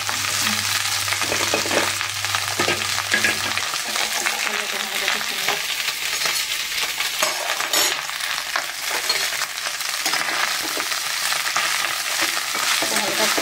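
Cumin seeds frying in desi ghee for a rice dish with green peas give a dense, steady sizzle, with faint stirring scrapes near the start, alone and continuous throughout.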